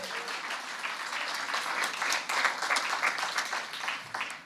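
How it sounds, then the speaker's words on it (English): A church congregation claps for a woman named Vicky, steady dense applause running the whole few seconds at moderate loudness, swelling slightly midway before easing off, with no voices over it. "Let's clap one more time for Vicky."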